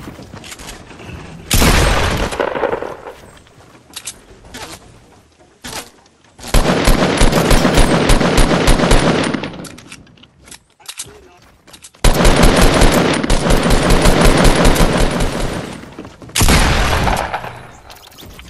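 Rapid automatic gunfire in the video game Fortnite, loud sustained bursts of several seconds separated by short lulls, with booms and clatter mixed in and no voices over it.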